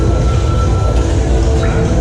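The Blue Fire roller coaster train at Europa Park rumbles steadily on its track, a loud, dense roar with faint whining tones, heard from on board with no voices.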